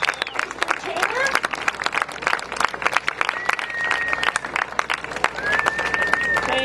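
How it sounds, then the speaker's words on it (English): A crowd at a community event in Grand Forks applauds Mayor Brian Taylor with steady, loud clapping and scattered cheers, a couple of whistles rising over it. "Give a big round of applause for Mr. Taylor."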